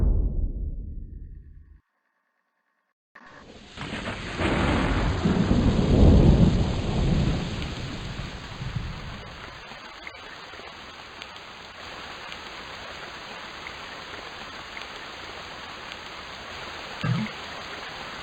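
Rain and thunder from the Age of Empires 2 custom campaign prologue set at a lonely grave, beginning with a rumble, a brief silence, then a loud rolling thunder swell over steady hissing rainfall that settles into constant rain with a distant crack later.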